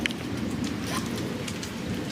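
Steady, dense rain pours down across a flooded residential street, a continuous close hiss with thunderstorm rumble underneath and no voices.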